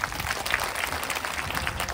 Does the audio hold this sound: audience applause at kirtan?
yes